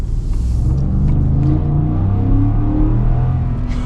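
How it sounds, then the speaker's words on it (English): A 2026 Ford F-150 Lobo pickup revs its engine hard, a loud close rumbling roar that climbs and holds through the clip with no talking over it. "you actually rev it out"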